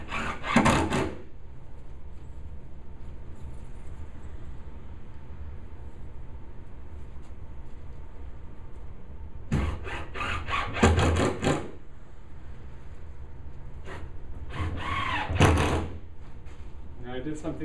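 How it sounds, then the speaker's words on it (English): Screws are driven into a wood cabin panel joint with a power driver, heard as three short loud buzzing bursts separated by long quiet gaps, with talking at times. "I'm pushing the joint tight as I put the screws in."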